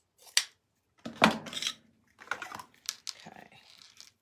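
Scissors snip through deco mesh for an Easter bunny tail wreath, a few close, crisp cuts and rustles separated by short pauses, with no talking.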